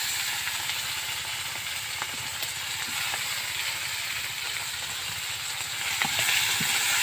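Green chilies fry with ginger paste in hot oil, a steady, close sizzle and hiss that runs unbroken, with a few faint clicks of stirring and a slight swell near the end.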